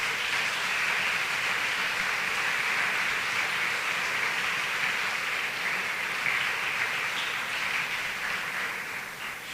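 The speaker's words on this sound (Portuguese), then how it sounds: "Vamos aplaudir o Senhor por essa verdade." Church congregation applauding together, a steady dense wash of clapping that holds at an even level throughout and fades slightly near the end, with no voices over it.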